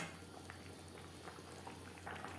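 Rohu fish curry with bottle gourd stems simmering in gravy in a pan, heard as a steady, fairly quiet bubbling with no talk.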